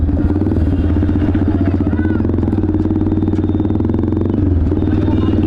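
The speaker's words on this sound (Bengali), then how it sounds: "এদিকে আমার বাইকেও এক্সস্ট লাগানো, আর আমাদের আলিম ভাইয়ের বাইকেও এক্সস্ট লাগা" A Yamaha R15 V3 motorcycle with an aftermarket full-system exhaust rumbles with a rapid, throaty popping beat, steady and close, with faint traffic clatter around it.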